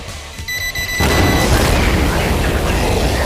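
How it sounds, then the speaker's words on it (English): A pipe bomb going off in a Halloween horror video game, a sudden loud blast after a brief beeping tone that settles into a sustained roaring rumble. "I have set pipe bombs."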